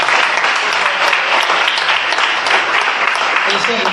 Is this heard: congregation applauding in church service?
yes